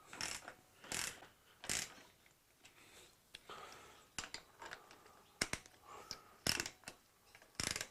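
A ratchet tightens the axle nuts on a GS1000 motorcycle, giving quiet bursts of rapid clicking mixed with sharper metallic snaps and pauses. The sound is close and faint, with no speech.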